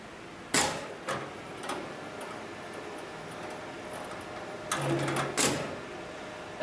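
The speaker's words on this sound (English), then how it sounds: "turn the power button on for the motor, which activates the computer and also the motor for the sewing machine" A Cowboy industrial computerized sewing machine powering up its motor gives a few sharp, close mechanical clicks and short whirring bursts spaced over several seconds against a quiet background hum.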